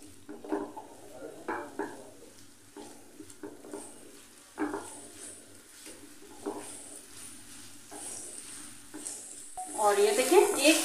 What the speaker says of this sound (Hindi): फिर व्हाइट वेनेगर डालेंगे और इन सबको 1 मिनट तक मिक्स करते हुए भून लेंगे।